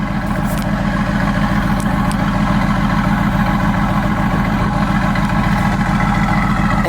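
A tuned 650 hp Mercedes-AMG GT S idles up close with a loud, steady, deep rumble that stays constant throughout and carries no talk.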